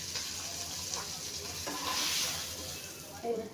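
Fried pomfret pieces lifted out of a pan of hot oil, which keeps up a steady, close sizzle throughout, with a few soft scrapes and a brief clink near the end.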